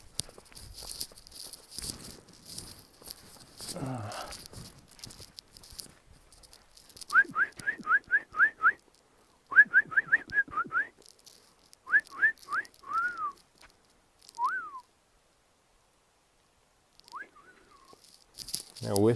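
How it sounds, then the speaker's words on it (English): A person whistles outdoors in the early morning on the Kungsleden trail in Lapland, with short rapid rising notes in bursts, then a few longer single slurred notes with quiet pauses between, fairly close and clear, and some faint sounds earlier. "Now whistling starts."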